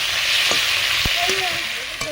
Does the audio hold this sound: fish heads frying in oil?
yes